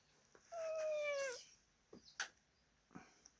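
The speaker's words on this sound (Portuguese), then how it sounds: "A gatinha passando aqui." A cat gives one clear drawn-out meow as it walks past, followed by a few faint soft chirps and small noises in a quiet room.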